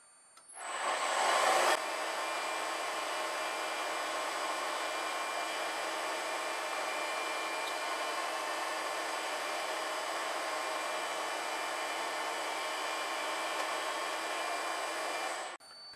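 A machine cuts a motorcycle oil pump part 2.5 mm deep, a steady high-pitched whirring drone after a louder opening surge, holding constant until it stops, no voices.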